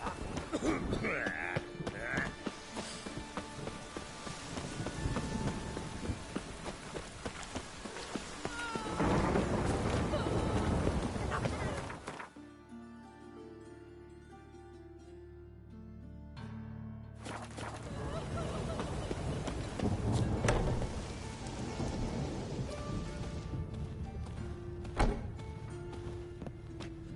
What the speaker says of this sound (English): Must like the rain, that.